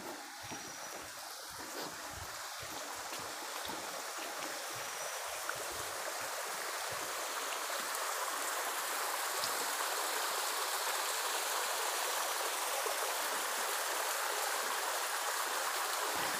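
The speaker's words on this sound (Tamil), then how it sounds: "சின்ன சின்ன ஓடைகள் நிறையவே இருக்கு." Many small streams flowing through a forest on a misty hike in elephant country, a steady, broadband rush of running water close by, continuous and even throughout with no voices.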